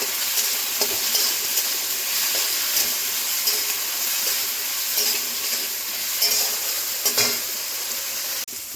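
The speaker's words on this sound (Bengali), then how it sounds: "লবণ দেব, কিছুক্ষণ ভেজে নেব।" Bottle gourd and ground spices fry with salt in hot oil, a steady close sizzle with occasional scrapes and clinks of a spoon stirring the pan, continuing throughout without talk.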